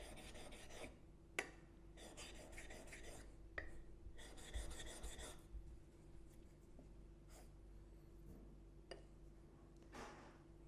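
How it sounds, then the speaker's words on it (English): A chisel-style plain blade's bevel is stroked at 45 degrees across a sharpening stone in a handful of short raspy passes, quiet and close, separated by pauses and a low steady hum. "45 degrees across the stone. A few strokes and then re-reference."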